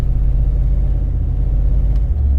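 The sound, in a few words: older car engine starting up after weeks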